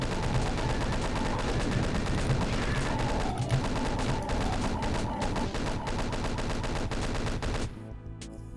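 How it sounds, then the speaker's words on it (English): Chain gun firing in Doom 2, a dense, continuous rapid stream of loud gunshots sustained for several seconds, then cutting off abruptly near the end. "I'll use the chain gun to finish them off."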